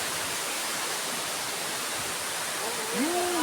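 Dampalit Falls in Laguna gives a steady, dense roar of falling water that fills the whole scene, with a voice briefly rising near the end.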